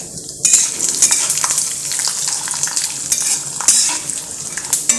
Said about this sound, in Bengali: এখন কিন্তু বাদামগুলো ছেড়ে দিচ্ছি